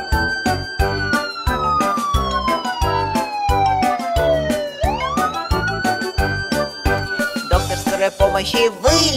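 An ambulance siren wails in a children's song, its tone sweeping slowly down and back up over a bouncy rhythmic musical backing with percussive beats, loud and prominent throughout.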